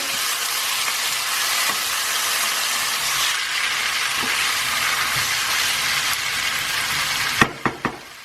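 Cabbage for an Indian cabbage and chickpea curry stirred into a hot pan, a steady loud sizzle with a few scraping knocks near the end.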